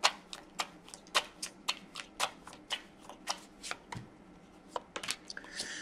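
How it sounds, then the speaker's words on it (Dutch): Tarot cards being shuffled by hand, a quick run of crisp riffles and sharp snaps in an uneven rhythm, close and clear, with no voices over them. "De kaarten schudden om te kijken wat deze week voor jou gaat brengen."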